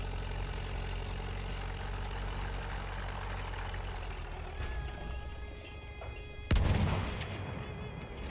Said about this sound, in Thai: ข้าได้ยินเสียงระเบิด